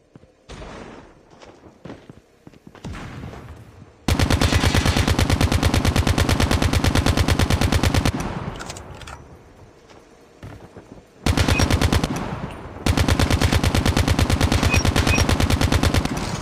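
ICR-1 rifle in COD Mobile fitted with a 40-round fast reload magazine, firing long rapid automatic bursts that stop for quick mechanical reloading clicks and clacks, then resume loud sustained fire, with no voices.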